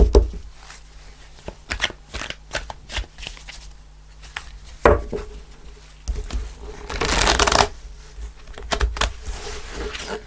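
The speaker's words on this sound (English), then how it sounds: "Just want to shuffle the cards a little bit." Tarot cards riffled and shuffled close up in repeated bursts of flicking and rustling, with a longer rush of shuffling near the end.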